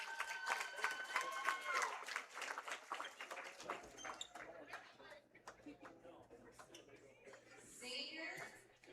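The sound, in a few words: crowd applause for senior basketball player at senior night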